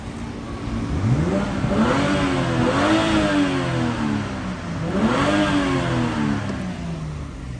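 BMW X5 M Sport with a twin-turbo 3000 cc engine revving, two rising throttle blips that swell and fall back over a steady close engine drone, with no talk.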